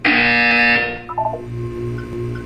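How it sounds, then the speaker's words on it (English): A loud electronic buzzer from the video game Portal 2 sounds as a sustained harsh tone for under a second, followed by a short descending chime pattern and a low repeating hum. "When you hear the buzzer, look up at the ceiling."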